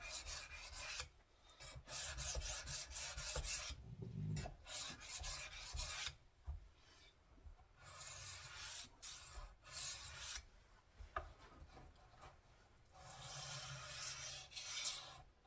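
A flexible knife blade is being sharpened with repeated rasping strokes. The scrapes come in irregular bursts separated by short pauses, close and fairly quiet, with no talking.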